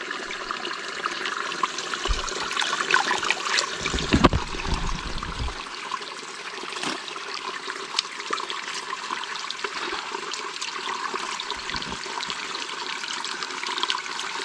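A clear stream flows through dense forest with a steady, continuous rush and trickle. A louder splashing burst comes briefly near the middle before the even flow resumes.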